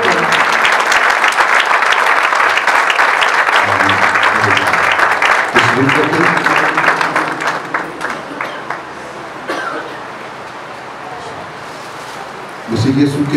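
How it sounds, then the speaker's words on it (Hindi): A church congregation at a Sunday Urdu service applauds loudly after the sermon. The dense, sustained clapping runs for most of the stretch, thins out and fades toward the end, and voices and some tonal sound mix into it. "खुदा के बंदा के लिए खुदा के कलाम के लिए जोरदार तालियां बजाएं जोरदार तालियां"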